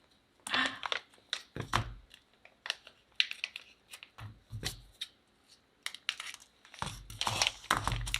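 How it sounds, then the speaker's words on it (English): A plastic piping bag crinkles and rustles in bursts while being cut at the tip and folded for piping chocolate, with close, irregular crackles separated by short quiet gaps. "So I just cut the tip off of my bag so that the end of the piping tip can come through"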